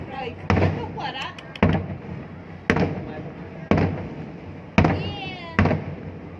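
New Year's Eve 2024 fireworks at Ninh Kiều, Cần Thơ thud in six or so heavy, separate booms about a second apart, with crowd chatter and exclamations between the blasts.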